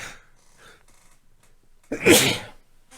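After a quiet breathy lead-in, a single loud, sharp sneeze bursts out close up.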